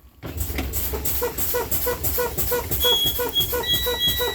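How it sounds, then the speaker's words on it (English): A truck's low air pressure warning buzzer, steady and pulsing, repeats in a fast rhythm over a low engine rumble, loud and close. "there's the buzzer and the light"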